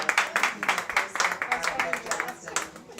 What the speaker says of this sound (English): let's give another round of applause to Cassandra.